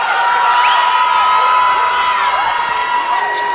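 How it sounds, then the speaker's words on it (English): A raucous high school student crowd of Northwest Christian fans cheers and whoops steadily through a boys basketball championship game, loud and continuous with shouts rising above the roar. "this Northwest Christian student crowd, which has been raucous this afternoon"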